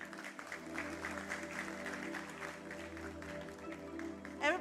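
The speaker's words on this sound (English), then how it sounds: "A big round of applause, everyone." Conference audience applauds after a speaker, a continuous wash of clapping hands that stays fairly even at moderate distance, with a voice and a low hum running underneath.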